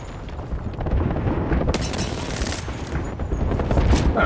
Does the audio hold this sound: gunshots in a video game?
yes